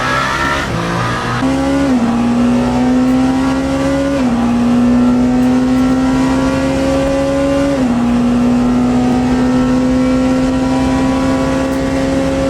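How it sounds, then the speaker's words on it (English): The Penske Porsche race car's engine in Le Mans Ultimate runs loud and close on board during a 24-hour race on hard tires, with a high sustained whine that climbs through each gear and drops at every shift. "On board with the Penske Porsche of Kevin Estra, number 5."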